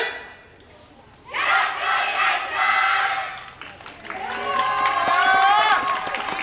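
Crowd at the Hitachi-no-kuni YOSAKOI dance festival, a station-front street parade performance, shouting a call-and-response chant, loud massed voices in two bursts after a quieter opening.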